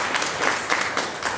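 Continuous clapping at a 500th meeting event, a dense, even patter of hands that reads as a room applauding rather than a lone pair of hands, with no speech.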